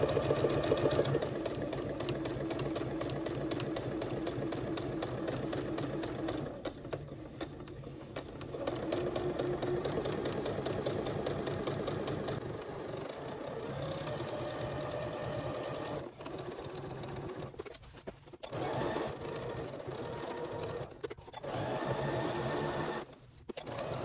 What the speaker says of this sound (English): I'm going to stitch using my 1/4 inch seam allowance, and I have a 1/4 inch foot on my machine, and I'm just going to stitch all the way around.